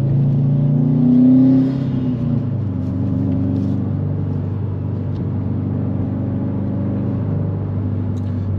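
A 2020 Subaru WRX STI rally-bred car accelerating hard, its engine rising to a loud rev in the first two seconds and then settling into a steady, heavy droning rumble from inside the cabin.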